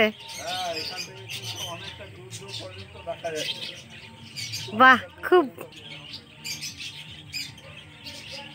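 Birds call and chirp near a lake at a bird sanctuary, scattered tweets through the clip with a few loud, close calls in the middle, while people speak briefly.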